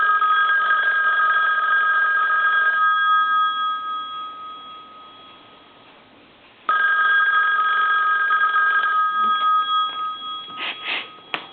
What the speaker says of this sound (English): I'll go ahead and ring it again